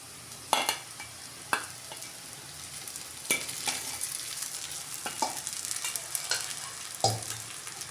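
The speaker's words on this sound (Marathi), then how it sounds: "आता याच्यावर आपण परतून घेऊया शाबू" Sabudana (sago) and potato are sautéed in a pan over a low flame. A soft, continuous sizzle runs underneath as a spatula stirs and scrapes, with several sharper knocks against the pan spaced through the stretch.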